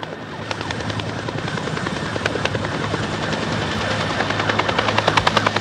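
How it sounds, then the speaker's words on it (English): A firefighting helicopter flies nearby during a wildfire, its rotor chopping in a rapid rhythmic thud over a steady engine roar that grows louder toward the end. "These days, helicopters are not only dropping water, they're dropping fire itself."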